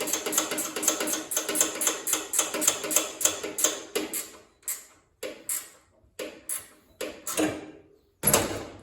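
Ratchet wrench tightening a bolt on a 72-inch Grasshopper diesel mower: a run of rapid close clicks, then slower separate ratcheting strokes with short pauses, ending in one heavier clack.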